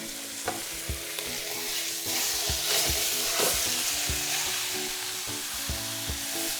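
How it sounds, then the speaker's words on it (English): Beef brisket sears in a hot pan, a steady loud sizzle and crackle running the whole time with scattered pops and a few soft clinks of utensils, and no one speaking. "So you always want to sear your meat before you actually cook it."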